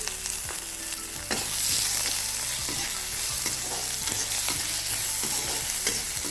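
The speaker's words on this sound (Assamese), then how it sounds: "এতিয়া মই দিম আদা নহৰুৰ পেষ্টখিনি।" Ginger garlic paste fries in hot oil in a pan with onions that have started to brown. A loud, steady sizzle runs alongside repeated scraping stir strokes, and no voice is heard.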